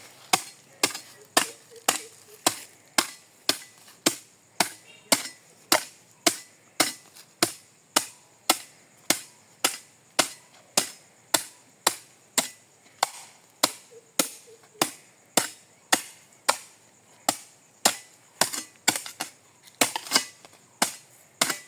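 A hoe strikes soil again and again while chopping and mixing fertilizer in around a coconut tree, giving a steady rhythm of sharp, loud thuds with brief pauses between them.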